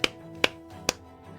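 A character in Silksong strikes a breakable wall in the Bone Bottom caverns to reveal a hidden spool fragment, making three crisp, evenly spaced hits about half a second apart, close and clear over a faint background.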